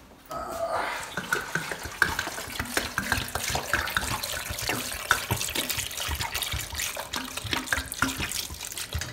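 Water pours into a cooking pot for pozole verde, a continuous splashing, gurgling stream that starts abruptly and runs steadily, fairly close.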